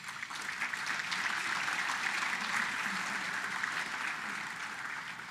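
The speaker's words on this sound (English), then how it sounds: "So please give yourselves another round of applause." Sustained audience applause fills a USSA FLIBS 2022 annual meeting hall, a dense, steady wash of many hands clapping at even loudness from start to finish.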